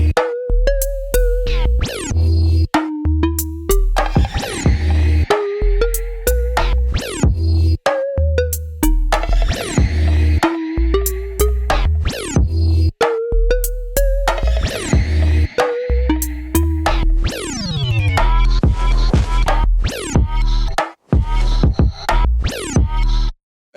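Electronic beat pattern from the Fnaire sound pack, with punchy low kicks and sharp stabs alternating with fast fills and scratchy glitch bursts, loud and continuous for over twenty seconds with no voice.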